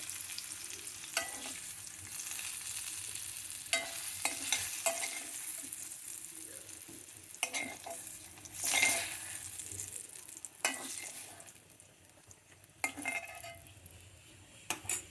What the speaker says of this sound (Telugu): తర్వాత ఇట్లా వేగుతుంది కొద్దిగా సొరకాయ